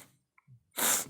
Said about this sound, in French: je renifle. J'ai un petit peu le nez qui coule.